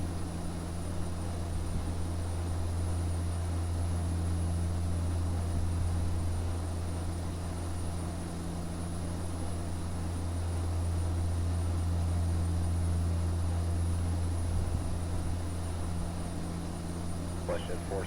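Steady, loud propeller-engine drone inside the cockpit of a King Air C90 twin turboprop, a constant hum with a persistent whine that continues throughout.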